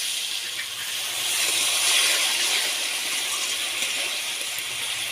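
Potatoes coated in spice paste, with a splash of water added, hiss steadily in a pan while being cooked down for a rupchanda fish curry, a close, even, steam-like sizzle with no voices.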